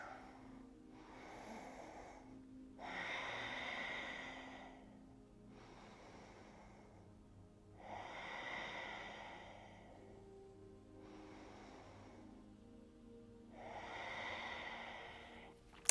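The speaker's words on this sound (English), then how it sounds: "Let's take 3 deep breaths." Three slow, deep breaths during a seated yoga pause, each a soft drawn-out inhale and exhale heard close and alone in a quiet room.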